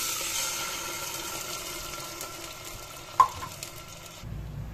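Moong dal and rice tipped into a sizzling tempering of ghee and asafoetida for khichdi, then stirred, giving a steady close frying hiss with a sharp clink partway before it cuts off.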